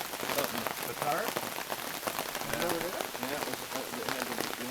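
Rain from a rain cloud cart patters onto a tarp, a soft, steady drumming of drops heard up close, with people talking over it.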